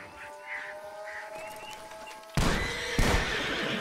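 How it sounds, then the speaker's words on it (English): A horse whinnies amid Red Dead Redemption 2 game sound effects, followed by a sudden burst of loud noisy action like crashing or gunfire. "Out of the way, damn horse!"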